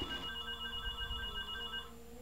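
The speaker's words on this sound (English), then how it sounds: "Yeah, that's the phone." A telephone rings in the game Anvil of Dawn, a steady electronic trill repeating for about two seconds before cutting off, with low rumbling game ambience underneath.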